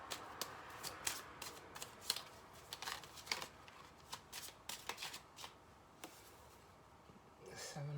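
Tarot cards being shuffled by hand, quiet riffling and flicking bursts in an uneven rhythm with soft card slaps between them, close up and with no talking.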